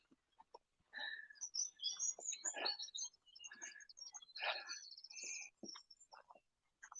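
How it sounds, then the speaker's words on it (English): Several birds and woodpeckers sing and chirp by a river in varied bursts, bright trills and whistles overlapping at close to moderate distance in an otherwise quiet outdoor setting. "just beautiful to listen to the woodpeckers and the birds"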